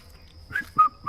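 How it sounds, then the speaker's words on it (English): Bird calls in Sigiria Forest, Nairobi, Kenya: a few clear whistled notes rising and repeating, moderately close, over a quiet background with a faint steady tone. "Just come and listen to the birds."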